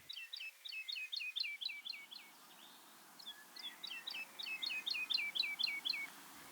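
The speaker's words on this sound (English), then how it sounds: "I could hear the distinctive sound of the woodlark" A woodlark sings a clear, liquid series of repeated fluting notes, descending in quick phrases, fairly distant in a quiet open heathland at Farnham Heath.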